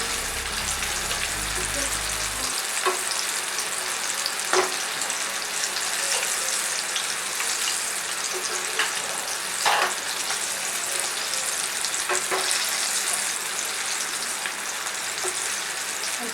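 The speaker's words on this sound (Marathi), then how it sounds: "आपले चणे फ्राय झालेले आहेत।" Chickpeas deep-fry in hot oil for chana koliwada, a steady dense bubbling sizzle throughout with occasional louder pops and clinks of a utensil, close and without voices.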